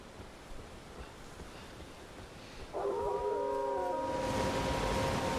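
Sky dogs in the video game Elden Ring let out a loud, wavering, multi-toned howl that begins partway through and holds steady over a windy, surf-like ambient wash.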